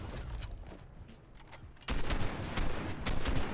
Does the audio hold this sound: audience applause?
no